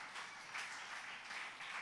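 Church congregation applauding together at a worship service, a steady wash of many hands clapping with no breaks, fairly soft and distant-sounding.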